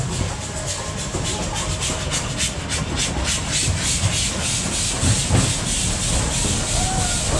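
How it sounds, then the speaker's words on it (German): Miniature steam locomotive pulling into an Efteling theme park station, hissing steam continuously with rhythmic chuffing pulses under a busy, loud ambient roar. "auch noch mit Dampf betrieben, also eine Dampflok, eine ganz normale Dampflok, aber in klein"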